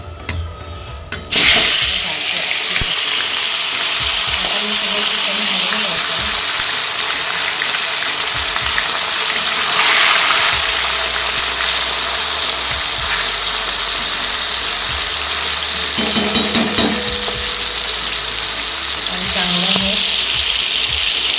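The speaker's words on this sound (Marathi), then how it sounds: "कढईत तेल तापत ठेवलेलं आहे, त्याच्यात मी हे टाकणार आहे।" Chicken sizzles loudly and steadily in hot oil in a kadai wok after an abrupt start, a dense continuous frying hiss with faint scraping of stirring.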